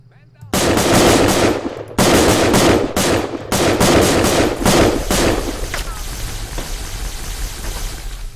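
Loud automatic gunfire in a video game, long rapid bursts broken by brief gaps, then tapering into a duller rattling tail, close and dominant.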